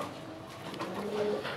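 A black-and-white Raj Golla pigeon cooing close by, a soft low throaty coo rising briefly over faint background hum.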